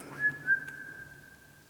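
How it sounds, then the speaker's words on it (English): Two short rising whistles, then a single long, steady whistled tone that fades out, faint and somewhat distant, with no talking, on McNabs Island. "I'm hearing whistling."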